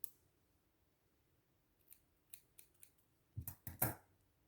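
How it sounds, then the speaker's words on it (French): Scissors snip through crochet yarn while an Easter chick is being finished: a few faint clicks first, then a close cluster of sharp snips near the end, with no voices. "Et je coupe mon fil."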